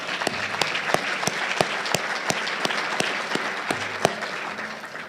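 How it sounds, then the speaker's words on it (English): Steady applause from a banquet audience at a scholarship appreciation dinner, many hands clapping together at an even level for about five seconds, with no voices standing out. "I think that deserves maybe another round of applause,"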